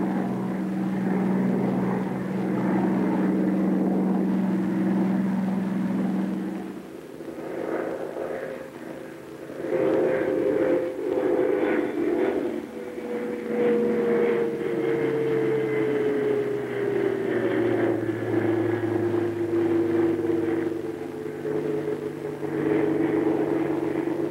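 A Bell P-39 Airacobra's engine drones steadily on landing approach, the propeller hum sliding gradually lower in pitch as power eases, continuous and fairly loud with no talking.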